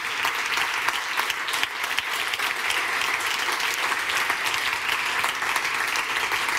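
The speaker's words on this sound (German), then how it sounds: "gibt es noch mal einen großen Applaus für unsere wundervollen Preisträgerinnen und Preisträger." A large audience applauds steadily and loudly for the winners at a science-communication award ceremony, a dense, continuous clatter of clapping with no speech over it.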